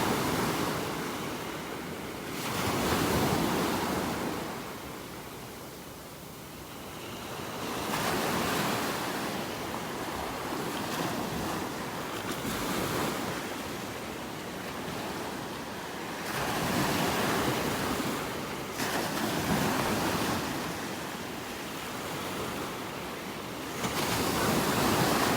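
Ocean waves roll onto a beach in North Naples, Florida, in the early morning, each surge swelling and receding in a slow rhythm under steady wind noise, with no voices.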